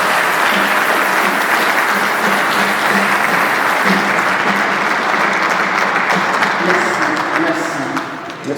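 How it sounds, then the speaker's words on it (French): A funeral audience at a Heverlee, Belgium service applauding steadily for several seconds, a dense, loud wash of clapping that tapers slightly at the end. "je veux que nous applaudissions cette sœur"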